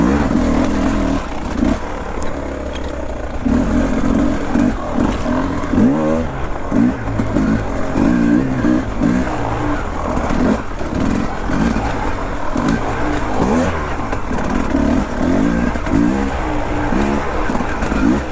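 A Beta 300RR enduro motorcycle rides a rocky trail in Marquette, Michigan, its two-stroke engine revving and bogging continuously across the whole stretch, loud and close, with rock clatter mixed in.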